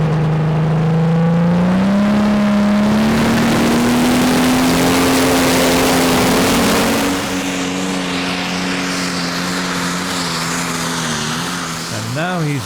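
John Deere pulling tractor roaring at a tractor pull, its engine note climbing steadily as it revs under heavy load before easing off, very loud and close, with an announcer's voice over the noise.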